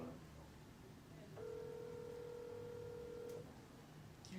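A phone dialing a call back sounds as a faint steady electronic tone lasting about two seconds, heard quietly indoors over low background noise.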